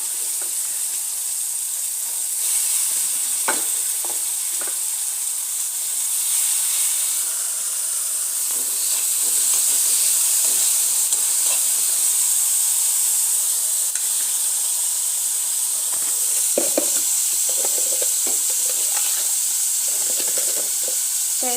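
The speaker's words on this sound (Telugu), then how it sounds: "పెట్టుకున్న పప్పు ఇందులో వేసేస్తుంది." Cooked dal goes into a hot pan for pappu curry, a soft continuous sizzle and hiss with occasional light clinks and stirring scrapes, fairly close and without talk.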